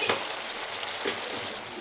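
Potatoes and tomato with salt and turmeric sizzle in a pan, making a steady close sizzle with a couple of soft stirring scrapes and no voices.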